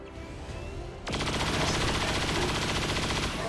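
A chain shot from a soldier's rifle in XCOM 2: after a quiet second, a sudden loud burst of rapid automatic fire rattles steadily for over two seconds.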